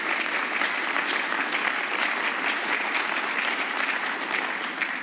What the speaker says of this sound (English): How about an applause for the class of 2020?